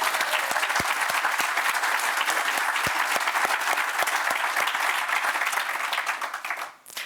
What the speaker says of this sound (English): I think that's at least worth a clap